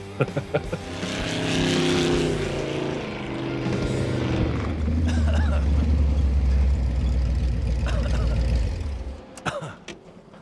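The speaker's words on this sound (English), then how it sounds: "The sound of the exhaust right there in stereo, pure adrenaline rush." The exhaust of a custom VW wagon fitted with a Studebaker nose roars loudly as it revs and accelerates, then settles and fades, ending with a few sharp knocks.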